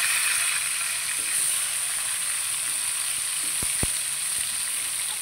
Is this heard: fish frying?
yes